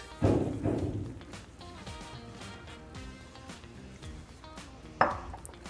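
Semolina tipped into melted butter in a pan for a semolina sweet, opening with a loud clatter and scrape of the pan, a quieter stretch of light stirring and tapping, then a sharp metallic knock near the end.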